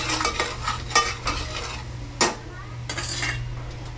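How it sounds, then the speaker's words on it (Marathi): Curry leaves, turmeric, chili powder and salt fry in leftover oil in a pan, a soft sizzle broken by several sharp clinks and scrapes of a metal spoon stirring against the pan, with no voices. "आता उरलेल्या तेलात आपण टाकूया कढीपत्ते. इथे आहे हळद, तिखट आणि मीठ."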